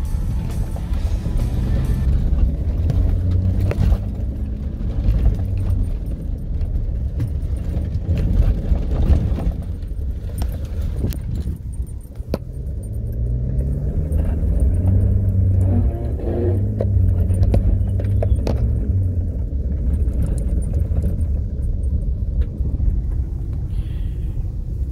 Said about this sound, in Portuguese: Deu pra perceber o controle de estabilidade de ação?